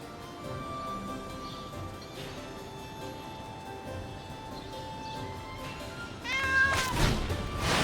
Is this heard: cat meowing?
yes